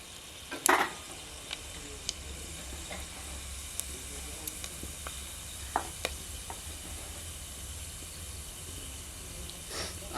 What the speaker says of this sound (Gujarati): હવે આપણે જો તેલ ગરમ થઈ ગયું છે, આ લવિંગ બાદિયા નાખી દઈએ તીખા.